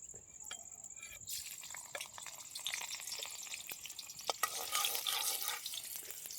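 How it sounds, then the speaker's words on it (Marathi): Peeled garlic cloves go into a hot tempering in an iron pan, a soft crackling sizzle that builds and fills out after the first second, fairly faint and with no talking. "हे लसूण खुडून घेतलेलं आहे ते पण टाकू फोडणीला"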